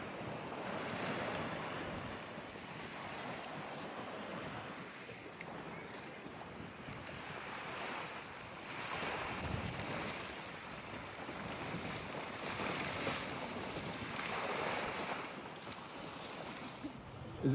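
Atlantic Ocean surf breaking steadily on Boneyard Beach near Jacksonville, Florida, a continuous loud wash of waves with rolling swells every few seconds and some wind buffeting the microphone, no voices.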